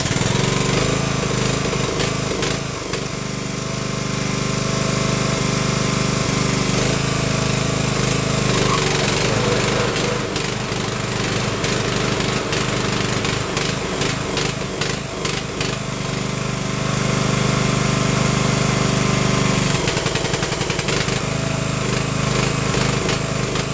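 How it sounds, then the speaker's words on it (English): A Craftsman LT1000 riding mower's small engine runs steadily while warming up after an engine swap, a loud, close, continuous buzzing drone with slight fluctuations and occasional rattles. "I'm gonna let this motor warm up a little bit"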